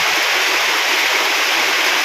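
Water rushes loudly and continuously through a canal in flooded farmland, a dense hiss and roar of fast-flowing current, close by and with no voices over it.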